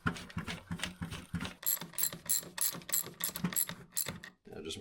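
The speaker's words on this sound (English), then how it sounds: "Now you can torque this cap to your manufacturer's recommendations." Torque wrench ratcheting rapidly while tightening a cap on a 2001 Yamaha YZ125, a steady run of close, quiet mechanical clicks for several seconds before stopping.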